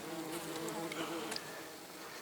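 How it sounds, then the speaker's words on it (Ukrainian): Close, busy buzzing of wasps attacking a beehive entrance, a dense insect hum with sharp flickering wingbeats darting in and out. "оси будуть намагатися пролізти через ляток"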